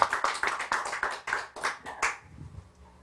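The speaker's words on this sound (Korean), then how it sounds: "박수 한번 쳐주시고" Audience applause during a Korean church theology lecture: a burst of hand claps for about two seconds, fairly close and lively, then fading into quiet room noise.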